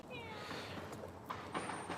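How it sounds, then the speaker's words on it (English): A cat meows indoors with a few short, high mewing calls, fairly quiet and mixed with background room noise and people speaking. "She's meowing."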